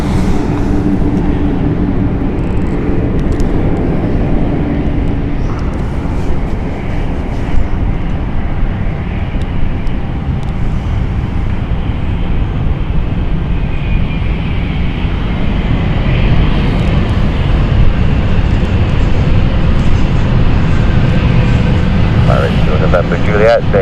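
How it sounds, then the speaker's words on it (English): A Florence flight aircraft inbound to London City Airport on a Thursday evening in December, its steady broadband engine roar continuous and loud throughout, with voices talking underneath. "Florence flight inbound now"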